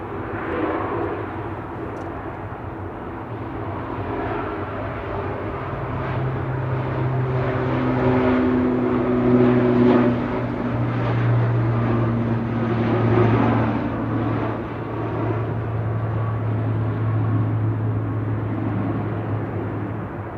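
ATR 42-500 turboprop G-LMRD on flight 498 to Inverness at Manchester Airport, a steady propeller drone with tonal hum rising slightly mid-way and holding for about twenty seconds, fairly close and continuous.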